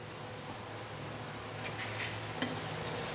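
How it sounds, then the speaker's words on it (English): A steady hiss of water boiling hard in a pot on a candle-powered gasifier stove, continuous and close, with a brief clink partway through. "It's boiling really well now."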